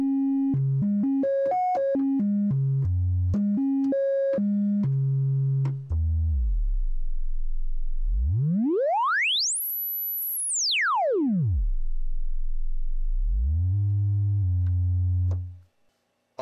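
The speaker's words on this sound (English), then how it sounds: "Oscillator 2, sine wave." A pure sine-wave tone from an ARP 2600 synthesizer's second oscillator steps through a fast melodic pattern, then glides smoothly up to a high pitch and back down, ending on a low hum.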